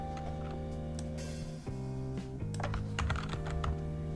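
Rapid irregular tapping of keys on a computer keyboard, close and clear, under a steady tonal background hum.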